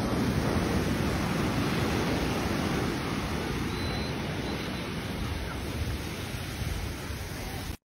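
Sea waves wash steadily at the shore, with a broad, continuous surf roar mixed with wind buffeting the microphone, loud and unbroken with no voices.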